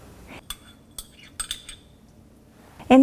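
Chopped onion, ginger and green chili being mixed in a bowl, with a few light clinks and scrapes of a spoon against the bowl, spaced irregularly, then a louder knock at the end.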